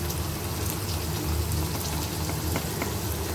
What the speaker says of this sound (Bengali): তেলের মধ্যে আমরা হালকা করে ভেজে দেব